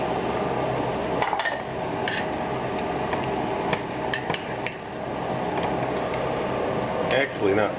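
Curry spices are stirred in a cooking pot, with repeated metallic scrapes and light clinks of a spoon against the pot over a steady background hiss, and a voice is heard speaking now and then.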